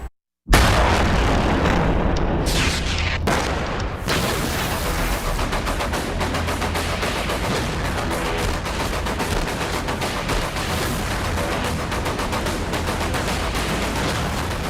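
Explosions and gunfire from missile strikes in Kyiv, Ukraine: a sudden loud blast after a brief silence, then dense rapid bursts and cracks that roll on continuously, harsh and distorted.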